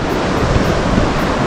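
Ghatte Khola, a mountain river on the trek toward Gosaikunda, rushing steadily as a loud, dense roar of water close by, with no voices.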